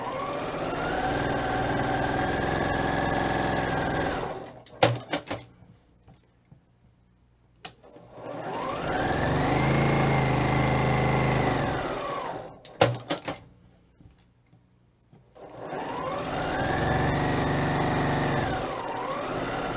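A sewing machine stitches a quarter-inch seam around a fabric square in three sustained whirring runs, each rising and settling in pitch, with short pauses and clicks between them, close up and with no talk.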